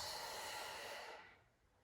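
Sustained breathy exhalation during an abdominal exercise workout, loud and steady for about a second before tapering off into quiet.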